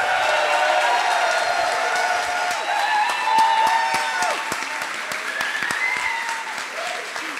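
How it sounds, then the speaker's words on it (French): An audience at a coding bootcamp demo day in Paris claps and cheers, a full burst of applause that holds steady for several seconds before starting to thin out. "Je vous propose de l'applaudir."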